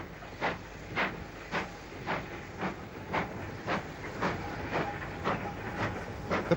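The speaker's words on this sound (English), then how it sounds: "A pannier tank brings its Donington to Oxley sidings goods out of the loop" A pannier tank steam locomotive hauls a goods train out of a loop at Cosford in winter, giving a steady run of regular rail-joint clicks over a low rumble and faint hiss, moderately distant and even in loudness.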